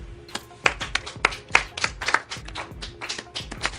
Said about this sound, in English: Let's all start clapping.